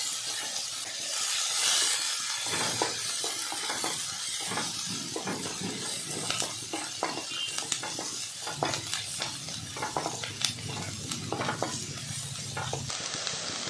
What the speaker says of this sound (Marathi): कांदा थोडासा लालसर होईपर्यंत परतून घ्यायचा आहे